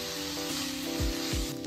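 Grated beetroot frying in ghee for a village-style beetroot rava laddu, a steady close sizzle with a couple of low thumps of stirring near the end.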